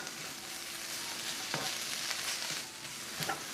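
Diced ham sizzling in a hot pan for breakfast burrito bowls, a soft continuous fry with a few light scraping stirs, quiet and close with no voices.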